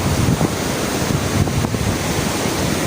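Steady rushing surf fills the clip, with wind buffeting the microphone and no voices.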